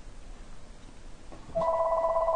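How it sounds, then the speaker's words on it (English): A telephone rings, a bright electronic trill starting about halfway through and continuing steadily to the end, clear and close over a quiet room. "And of course, the phone has to ring"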